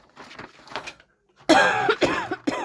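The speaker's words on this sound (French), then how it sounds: "Pardon, je tousse." Several loud, harsh coughs burst out in close succession near the end, following quieter breathy throat sounds, close to the listener with no talk over them.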